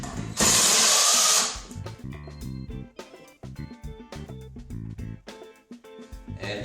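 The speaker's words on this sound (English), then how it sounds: "I'm going to drive in 4 of these screws into the pre-drilled holes" A cordless drill drives screws into pre-drilled holes on a wooden rocking horse, one loud sustained whir near the start, then quieter clunks and handling noises follow with no voices.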